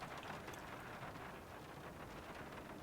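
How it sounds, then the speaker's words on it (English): Rain pattering steadily on the roof of a Zafira car camper, a soft even hiss of drops heard from inside, with no voices. "And then rain on the roof."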